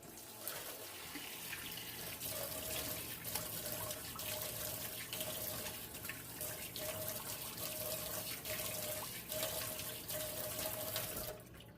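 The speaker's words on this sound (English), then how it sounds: "Let's throw some cold water on our face and see." Cold tap water runs into a bathroom sink and is splashed onto a face, a steady close stream with small splashes and no talking.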